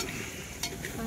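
Masala with fried onion paste sizzles in plenty of oil for chicken biryani, a soft close crackle with faint scraping, brief and alone.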